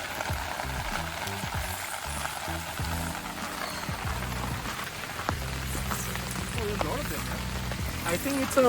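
Steady rain falls at a resort near Chennai, a dense, even patter on surfaces close by that continues throughout, with faint voices underneath.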